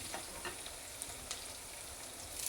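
Ginger, garlic and small red shallots frying in hot oil for a fish curry, a soft steady sizzle with faint crackles and pops throughout, quiet and close, no talking.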